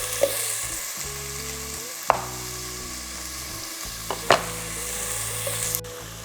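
Butter sizzling and frying in a pan while cooking chicken soup, a steady close crackle with a few sharp spatters and stirring clinks, no voices.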